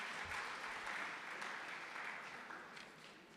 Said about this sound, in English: Sees another round of applause for all the presenters.